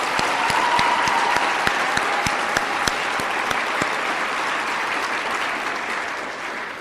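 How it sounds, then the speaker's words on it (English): Graduation audience for the class of 2020 applauding steadily at a ceremony, a dense, loud wash of many hands with scattered sharper claps that holds throughout and eases slightly at the end. "give yourself a round of applause."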